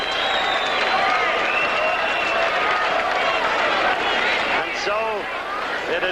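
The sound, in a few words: boxing crowd standing and cheering at Caesar's Palace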